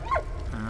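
A dog in the World War I video game Valiant Hearts gives a short, high whine that slides downward, followed by a fainter, lower whimper under a soft game background, with no speech.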